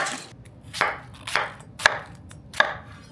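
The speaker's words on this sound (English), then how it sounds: "for the onion on this one, we're just gonna take it and slice it, clean it up, like so" A knife slices through an onion on a cutting board, four crisp chopping strokes landing at a steady, unhurried pace, each a sharp near thunk with a brief trailing crackle.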